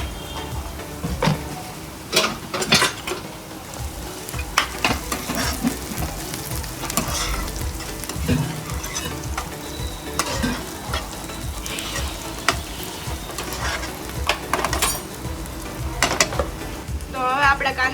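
Chopped onions fry in a pan with a steady sizzle, while a spoon stirs and scrapes against the metal in repeated clacks and taps throughout.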